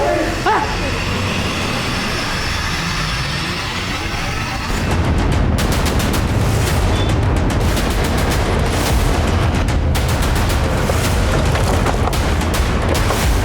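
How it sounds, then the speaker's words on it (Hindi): Sharp bursts of gunfire crackle in rapid, irregular volleys over a loud, rumbling background, after a short stretch of muffled noise. "अंदर से गोली चलने की आवाज आई थी"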